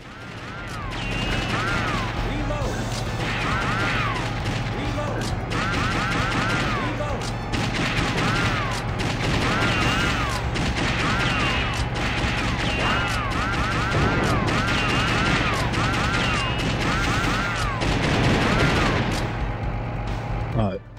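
Rapid gunfire in the arcade-style light-gun game Virtua Cop 2 on PlayStation 2, dense repeated shots and bursts with game effects running continuously, and someone talking over it.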